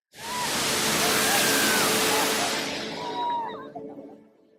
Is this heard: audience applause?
no